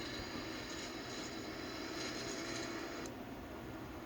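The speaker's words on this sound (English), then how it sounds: "So we have the full takeoff power right now, and we are proceeding for takeoff" Boeing 787 jet engines at full takeoff power, a steady dense roar heard from inside the aircraft, continuous and even, with no talking.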